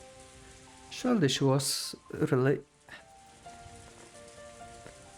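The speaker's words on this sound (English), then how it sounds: "As Angel slept, she was wrapped up in the soft sound of the rain." Soft rain from the Umineko Chiru visual novel patters faintly and evenly beneath a spoken voice and a low background hum.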